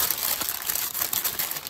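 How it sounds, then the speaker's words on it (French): Braised beef being wrapped for the oven gives steady close crinkling and crumpling of wrapping material, continuous and fairly loud over the short stretch with no talk. "Là, je vais emballer."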